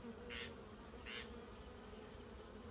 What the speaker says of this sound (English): Looks like a lot of bees are drinking the sugar water